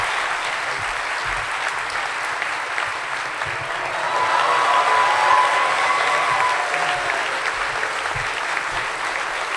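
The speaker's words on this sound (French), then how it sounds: "est-ce que vous voulez bien l'applaudir" Sustained audience applause from a seated crowd at an evening talk event, steady and dense, swelling louder through the middle before holding at a full, even level.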